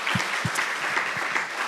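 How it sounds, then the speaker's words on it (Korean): A congregation at a Korean Sunday church service claps in encouragement, a steady, full round of applause with a few heavier thumps near the start. "정말 하나님의 영광이 된 귀한 아들 더 멋지게 비상하라고 격려의 박수 한번 드릴까요?"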